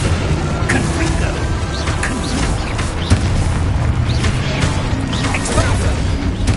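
Confringo spell blast in the video game Hogwarts Legacy, a loud, dense rumble of explosive booms and crashes over game effects, with a voice calling out spell names.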